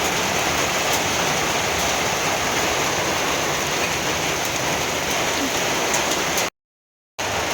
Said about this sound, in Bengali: সুন্দর বৃষ্টি